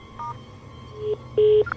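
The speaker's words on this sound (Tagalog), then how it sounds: "Tinawagan ni LA si Marga." A telephone keypad sends a few dialing tones, distinct beeps of different lengths with the last one held longest, over a low background hum.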